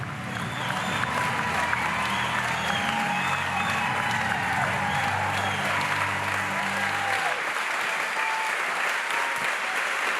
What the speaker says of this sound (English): Would you all do me a big round of applause for Candace Owens